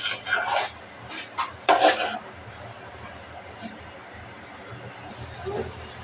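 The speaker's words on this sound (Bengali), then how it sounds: "একটু নাড়াচাড়া করে নেব, নিচে যেন লেগে না যায়।" A pointed gourd and potato curry is stirred in a pan, with a few short scraping and clattering bursts near the start, then a quieter stretch, while a person talks nearby.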